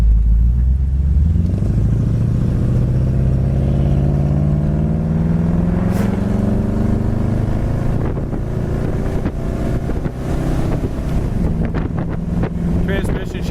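A 1966 Chevrolet Impala convertible cruising at highway speed, its engine drone rising steadily as it accelerates, with heavy wind rush over the open top and some road noise.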